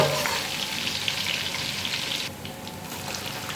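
Crushed garlic frying in a pan for aloo palak makes a constant close sizzle with light stirring, dipping slightly quieter near the end.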